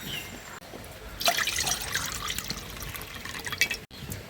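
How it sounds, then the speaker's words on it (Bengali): Water is poured into a bowl for semolina bread, a steady close trickle and splash that swells after the first second and continues to the end, with no voices. "একটা বাটির মাপ করে 2 বাটি জল দিয়ে"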